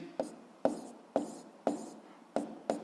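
A pen writes by hand on paper while working a physics problem, six short scratchy strokes in an uneven rhythm, close and fairly quiet, with gaps of silence between them.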